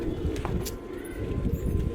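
A female pigeon coos up close, several soft low throaty coos in a loose rhythm, with a faint higher chirp or two in the background and no talking.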